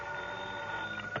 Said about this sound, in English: the phone beside my bed started jangling again